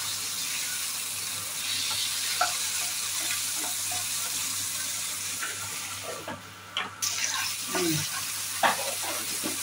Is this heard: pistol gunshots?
no